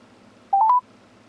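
A single short phone keypad tone, lasting about a quarter second, sounds clearly over a quiet background as a call to voicemail is dialed through the Chevy MyLink system in a 2016 Chevrolet Colorado LT.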